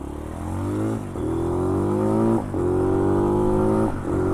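A Hawk 250 motorcycle engine revs repeatedly, climbing in pitch in three surges with brief dips between, loud and close throughout.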